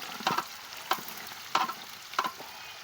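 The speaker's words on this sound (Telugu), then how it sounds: "నూనె కాలింది, ఉల్లిగడ్డలు వేసినాడు. ఇప్పుడు గెంటుతో తిప్పుతున్నాడు చూడండి." Onions fry in hot oil while a ladle stirs them, giving four evenly spaced scraping, sizzling bursts over a quiet background of frying.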